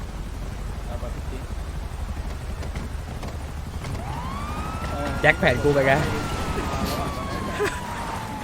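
A police car siren in the GTA V video game swells into a rising wail partway through, heard under ongoing casual talk between players and game noise.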